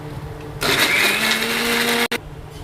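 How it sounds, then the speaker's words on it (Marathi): Mixer grinding garlic cloves, ginger, green chillies and raw mango pieces with a little water into a paste, a loud steady whir for about a second and a half with a brief cut before it stops. "लसणाच्या पाकळ्या, आलं, हिरव्या मिरच्या आणि त्या 2 कैऱ्या कापल्या होत्या त्याच्या फोडी मिक्सरमध्ये टाकल्या"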